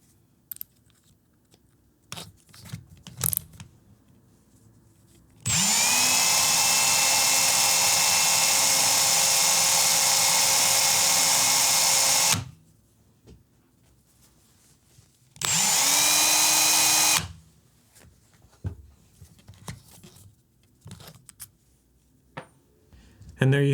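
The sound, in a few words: polishing RC car hinge pins with a rotary tool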